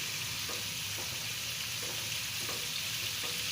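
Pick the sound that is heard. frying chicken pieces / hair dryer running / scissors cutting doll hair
frying chicken pieces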